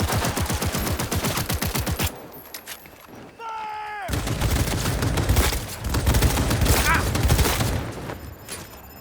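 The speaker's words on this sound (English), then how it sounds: "Firing at close range!" Rapid close-range gunfire bursts in Cyberpunk 2077, dense repeated shots in long volleys, broken by a short pause with a whining tone and talking before the firing resumes loud and continuous.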